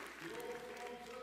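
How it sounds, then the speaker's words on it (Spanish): A church congregation gives a brief burst of worship applause, a dense wash of clapping with voices mixed in, faint and short. "dile al Señor un aplauso de adoración."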